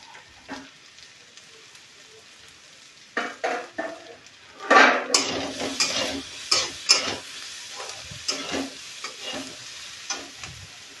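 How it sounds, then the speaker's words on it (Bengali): Onion and garlic fry in a pan for a Bengali egg and cauliflower curry, quiet sizzling broken by a series of spoon scrapes and stirring clatters against the pan, growing busier after a few seconds. "পেঁয়াজটাকে ভালোভাবে নেড়ে নেব। ভালো করে ভেজে নেব।"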